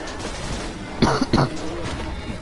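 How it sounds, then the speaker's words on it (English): A person in poor health gives a couple of short, harsh coughs close to the microphone over a steady low background hum. "Pardon the coughing, I am still not in the greatest of health."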